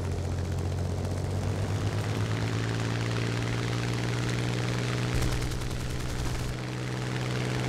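A propeller aircraft engine drones steadily and loudly in an air combat video game, a continuous humming tone with a brief crackle of gunfire partway through and no speech.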